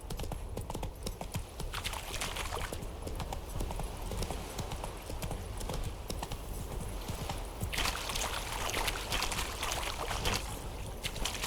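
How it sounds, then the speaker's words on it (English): Horse hooves clip-clop at a steady pace throughout in The Witcher 3: Hearts of Stone, close and continuous over a faint outdoor ambience. "Whoa there, Roach"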